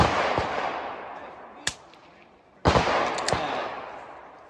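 Rimfire rifles fire at a shooting match on small prairie dog targets at around 110 to 118, with a couple of sharp, distant cracks and a longer burst of reports over a hissing outdoor background.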